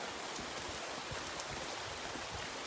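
Steady rain pours down outdoors on a wet day of working with an elephant, a dense, even hiss of drops with no voices, constant and fairly close throughout.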